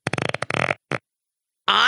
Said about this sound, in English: I guess just leave the original fart noise in.